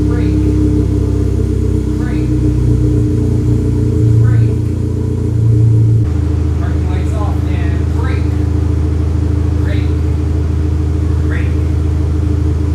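Engine of a US-spec Audi A4 wagon idling as a steady low rumble, with a brief rise in revs partway through and a voice talking over it.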